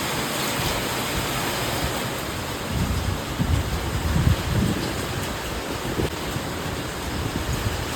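Heavy first monsoon downpour in Pune, a dense steady hiss of rain that fills the whole clip, with slightly louder low rumbling gusts in the middle.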